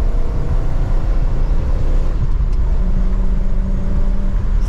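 A 1957 Buick Special's engine rumbles loud and close through a downshift, a heavy low drone that swells and settles with no talking over it.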